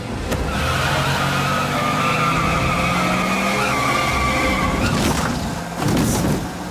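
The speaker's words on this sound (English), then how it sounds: "The way she backs her car over her first kill to finish him off after running him down" A car's tires squeal in a long, loud skid as it runs someone down in a horror comedy movie scene, with a thud and engine noise at the end.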